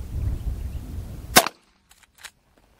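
A Henry Big Boy rifle in .45 Long Colt fires one sharp, loud shot that cuts off steady outdoor noise, followed by faint distant ticks.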